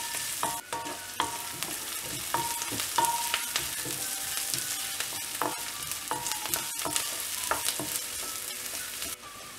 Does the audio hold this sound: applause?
no